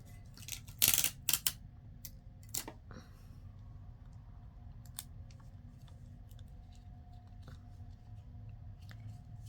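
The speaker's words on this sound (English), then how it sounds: "Let me just get a little piece of tape and put over it." Close handling of a small piece of tape while assembling altered paperclip booklets: a brief cluster of crisp tearing and crinkling bursts near the start, then quieter faint rustles over a low steady room hum, with no talk.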